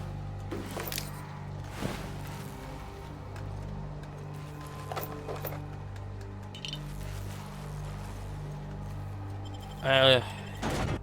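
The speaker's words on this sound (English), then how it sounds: "is that gunfire?" Scattered gunfire in The Outer Worlds video game: several sharp, separate bangs spaced seconds apart over a low game ambience, with a louder burst of noise near the end.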